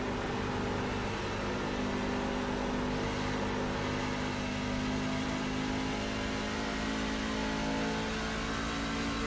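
A pickup truck engine at an oval short-track race, running steady and loud throughout with a sustained mid-range drone and no clutch engaged, no voices over it.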